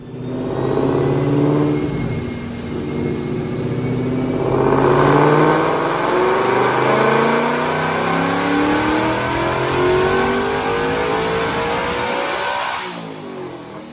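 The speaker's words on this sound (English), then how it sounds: "right now, check out this dyno pull" A 2021 Ford Mustang Mach 1 fitted with a Procharger supercharger makes a dyno pull, its engine loud and close as it revs steadily upward with a rising supercharger whine, then cuts off near the end.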